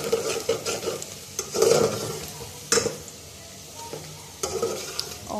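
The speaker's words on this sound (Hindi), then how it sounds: "उसको डाल दिया है मैंने फ्राई करने के लिए, और ये हमारी प्याज फ्राई हो गई।" Onions fry in a pan for a bhindi dish, a steady sizzle broken by scraping stirs and occasional clanks of a spoon against the pan, close and fairly loud.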